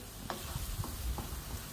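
Ground coriander, pepper and dried shrimp fry in a pan for spicy lontong sayur, stirred with a few soft scrapes over a quiet, steady sizzle, close by and without talk.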